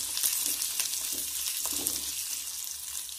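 Garlic, small onions and coconut fry in a pan, a close, steady sizzle with faint stirring scrapes and no voices.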